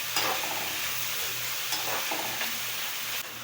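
Mutton chukka with curry leaves sautéing in a pan, giving a continuous soft sizzle with a few light stirring scrapes, fairly quiet and close.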